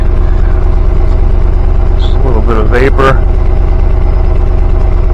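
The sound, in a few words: supercharged Chevrolet Tahoe engine idling with stock exhaust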